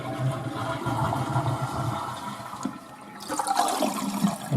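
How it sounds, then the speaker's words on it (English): A Mansfield toilet flushing, water rushing and emptying out of the tank through the flush valve, a continuous close gurgling roar that surges again near the end. "you see the water emptying"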